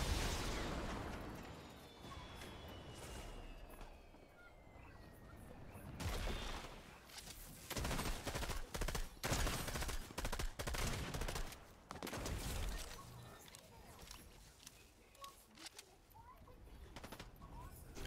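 Rapid bursts of gunfire in the video game Fortnite crackle through a busy battle, with frequent shots and louder volleys in the middle stretch, under occasional game noise.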